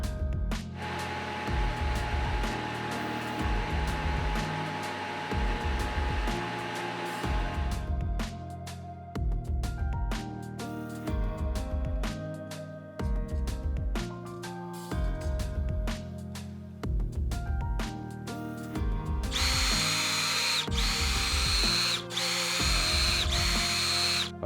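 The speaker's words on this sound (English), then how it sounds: "so I cut it with a lathe and made it thin" Metal lathe cutting down an oversized metal cylinder ring to make it thinner, in a home workshop: a steady whining machine drone broken by regular short pauses and repeated bursts of cutting, fairly loud and close, with no talk.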